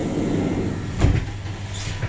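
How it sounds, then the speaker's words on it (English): The toilet door on a Trenitalia regional train slides shut with a short rumbling thud mid-clip, set against the steady hum and rattle of the moving carriage. "And you slide the door."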